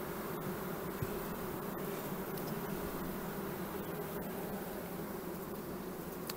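Honeybees at an open beehive during a queen supersedure check fill the air with a dense, steady, close-up buzzing hum, continuous and alone.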